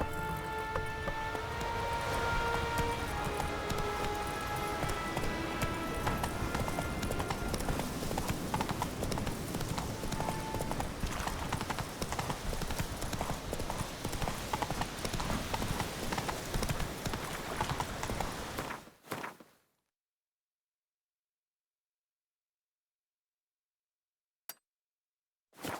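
Horse hooves clip-clop in a steady, loud gallop through a game world in The Witcher 3, running continuously for about nineteen seconds before cutting to near silence, with a couple of faint brief sounds at the end.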